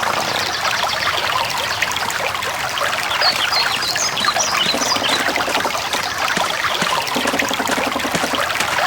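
Steady trickling and burbling water from a stream in The Black Mirror's castle garden, continuous and fairly loud throughout with no voices.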